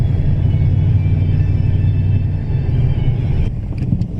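A Toyota vehicle approaches along a dirt track, a loud, close, low engine rumble and tyre roar that holds steady, then eases slightly near the end as faint clicks sound.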